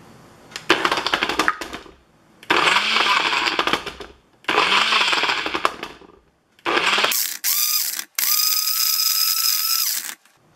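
NutriBullet blender shredding a baseball in a dry cup with no water, running in several loud grinding, rattling bursts with short pauses between, the last two runs higher and whinier.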